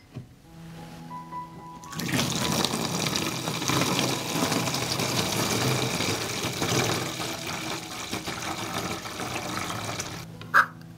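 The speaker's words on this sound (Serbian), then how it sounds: "Sada ću sipati litar vode." A liter of water pours into a large bottle in a steady, rushing stream lasting several seconds, close and fairly loud, ending with a brief knock.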